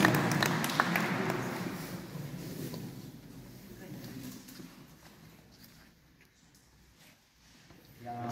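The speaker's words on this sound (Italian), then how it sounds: "un applauso a Melissa" Audience applauding a nativity scene contest winner at an awards evening: a burst of clapping that fades over a few seconds into quieter room noise and murmuring, with a slight swell again at the end.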